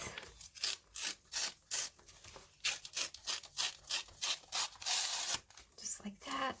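Scissors cut through a smash book page in a quick, even series of close rasping snips, about two per second, quiet and alone.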